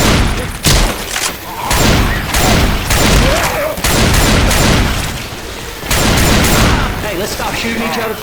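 Rapid, dense gunfire from the video game Left 4 Dead 2 in its Hard Rain campaign, with loud, close bursts of repeated shots running almost continuously through the whole stretch and only a few brief lulls between volleys.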